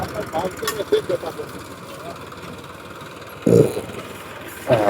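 A tractor engine idles with a steady low rumble, joined by brief louder bursts of voices nearby.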